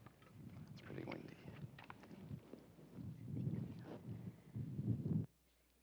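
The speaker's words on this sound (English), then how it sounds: "It's pretty windy." Low, gusty rumbling wind buffets the microphone continuously at an outdoor evening Shabbat service while a person speaks over it, then cuts off abruptly near the end.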